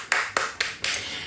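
Four crisp hand claps at an even, unhurried pace, close by with a short echo after each, and no other sound.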